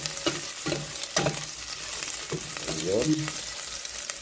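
Ginger and chili sauté in a pan for chicken feet adobo, giving a steady sizzle broken by clattering strokes of a stirring utensil, with a brief word spoken over it.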